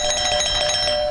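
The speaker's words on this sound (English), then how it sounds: "I'll bring you in one at a time with the doorbell." A bright electronic doorbell chime rings with sustained ringing tones, clear and close, no voices.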